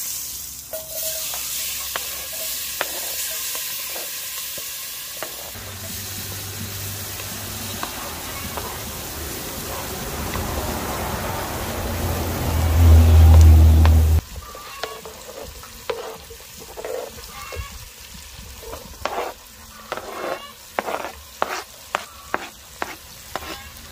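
Fish pieces cooking in a pot outdoors in Jamaica: a steady frying hiss, a brief low rumble, then rhythmic stirring and scraping clatter. Someone talks at times over the cooking.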